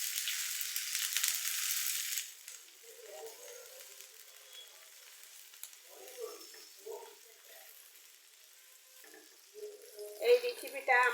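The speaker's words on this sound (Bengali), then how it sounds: "আমি একটু নেড়ে চেড়ে নিব।" Onion, garlic cloves and green chilies frying and being stirred in a pan: a loud hiss for the first two seconds settles into a low sizzle, with scattered scrapes and stirring clatter and a burst of clinks near the end.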